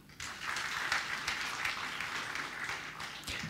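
At an awards ceremony, an audience gives moderately quiet applause, a steady mass of clapping rising after a short pause and continuing evenly with a few distinct sharper claps.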